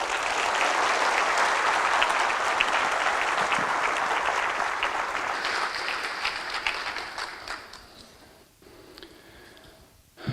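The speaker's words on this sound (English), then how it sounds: "would you please give them a round of applause" Sustained audience applause for staff at an electric cooperative's annual meeting, a dense, loud crowd of clapping that holds for several seconds, then thins and fades to scattered claps and near quiet before a small burst at the end.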